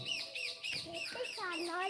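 Shrill, repeated parrot squawks and chirps from a mango tree, close and fairly loud, with short gaps between calls.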